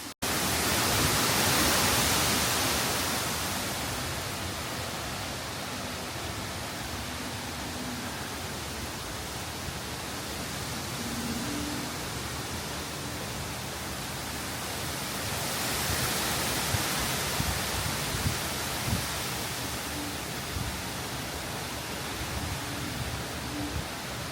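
Wind and rain from Hurricane Beryl in Galveston County, Texas, heard from inside a moving vehicle: a steady, dense roar of broadband noise that swells and eases over time, with no talking.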